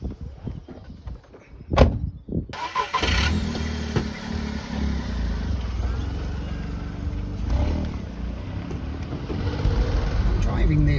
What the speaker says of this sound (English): I'm driving this because I just want to listen to the car